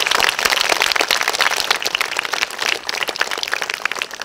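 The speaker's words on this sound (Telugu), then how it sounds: "big round of applause" Audience applause at an inspirational program event, dense continuous clapping from a crowd, loud and close throughout without a break.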